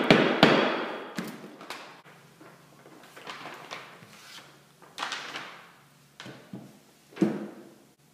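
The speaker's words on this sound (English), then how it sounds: "We're just going to seat this first bearing with the rubber hammer." Rubber hammer seating a bearing into an electric motor during a South Bend 13-inch lathe restoration: a series of irregular dull knocks and thumps, close and moderately loud, separated by quiet gaps.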